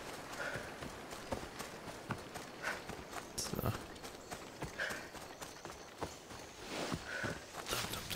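Horse hooves clip-clop steadily in the video game Assassin's Creed Odyssey, a continuous rhythmic stream of hoofbeats over busy ambient game noise.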